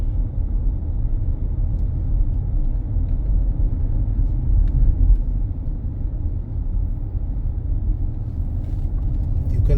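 Car driving through the parish of Christ Church, Barbados, a steady low engine and road rumble heard from inside, even and continuous for the whole stretch with no talking.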